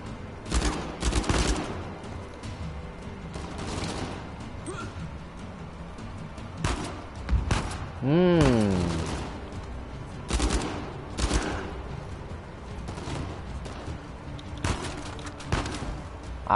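Dense gunfire from the video game Uncharted 4: repeated bursts and volleys of shots in a firefight, loud and close, with a sweeping tonal effect in the middle.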